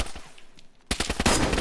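Rapid gunfire bursts from a video game shootout erupt loudly after a quieter opening, with dense repeated shots filling the second half.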